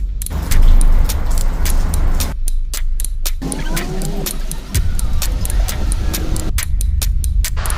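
Big trucks clear heavy snow piles from Providence, Rhode Island streets days after a three-foot blizzard, making a loud, steady engine rumble with surging revs and broadband road noise throughout.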